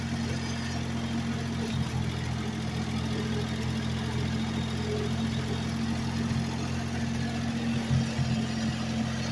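A Ford 4000 tractor's engine idles steadily nearby with a low, even rumble throughout, while the front loader works hard ground.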